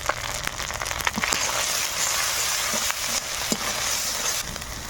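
Ground spice paste with salt and turmeric sautéing in a pan for a thin rohu fish curry, a steady close sizzle broken by scraping stirring strokes, with no talking.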